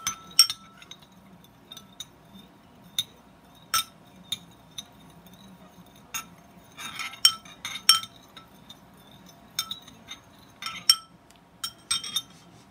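A metal spoon clinks repeatedly against a glass container while stirring a dishwashing liquid mixture, with light, irregular taps close by and no talking.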